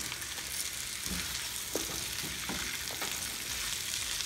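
Sausages frying in bacon fat in a skillet, a continuous low sizzle with a few light scrapes and taps as they are stirred, fairly quiet and with no talking.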